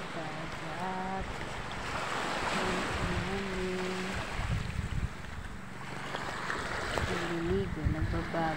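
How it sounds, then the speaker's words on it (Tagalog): Sea waves rolling onto a beach form a broad, rushing wash, with wind buffeting the microphone and voices talking over the surf at times. "Ayan, dito kami sa dagat."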